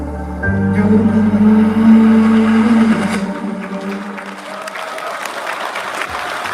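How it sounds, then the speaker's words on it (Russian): Audience applause at a Christmas concert rises as a sustained musical tone fades out, then continues as a steady, fairly loud wash of clapping to the end. "Аплодисменты от наших зрителей"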